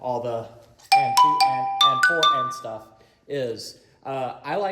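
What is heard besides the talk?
No distinct noise like a dog, phone or traffic.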